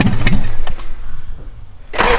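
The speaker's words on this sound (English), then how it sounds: "as you can see, it's actually starting. Yes, that's the engine." Engine of a 1986 Toyota 4Runner cranking and catching, a loud, close, rhythmic chugging that sputters and fades before picking back up, with no speech.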